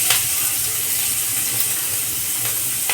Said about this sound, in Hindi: सब्जियों को फ्राई कर लेंगे।